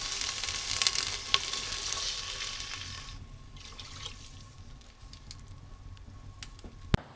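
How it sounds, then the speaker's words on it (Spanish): White wine and apple cider vinegar hit a hot pan in a steady sizzling hiss that fades after a few seconds, with a couple of sharp clinks and faint bubbling underneath. "vamos a añadir 2 vasos de vino blanco y 1 vaso de vinagre de manzana"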